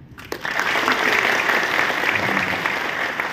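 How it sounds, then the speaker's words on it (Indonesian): Audience at a corporate innovation forum breaks into sustained applause, a dense wash of clapping that starts abruptly, holds steady and loud, then begins to thin toward the end. "yang bangga jadi orang Indonesia coba tepuk tangan"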